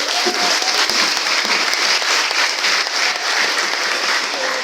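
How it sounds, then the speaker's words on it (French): A congregation at a youth Easter Mass in a church breaks into sustained, loud applause, many hands clapping together in a steady roar throughout. "Est-ce qu'on peut acclamer pour eux?"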